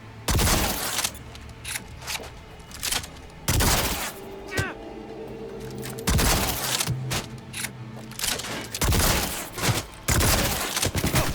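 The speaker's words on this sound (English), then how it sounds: "The DB4 Palica is a smart shotgun" Smart shotgun DB4 Palica from a first-person shooter video game fires repeatedly, each loud broadband blast followed by mechanical ratcheting and reload clatter, with several shots spaced across the stretch.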